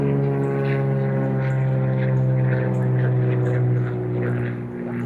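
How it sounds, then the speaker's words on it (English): A small propeller airplane drones steadily overhead in a wooded area in spring, its engine hum loud and continuous for several seconds before easing slightly at the end; nobody speaks. "and people are learning how to fly their planes."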